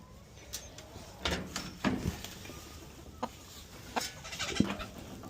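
A broody hen in a nest box gives several short clucks and soft grumbling calls at close range, scattered irregularly over a low background hum with no talk.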